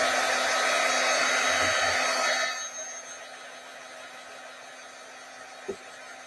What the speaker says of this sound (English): I would probably take my heat tool and let's dry her little head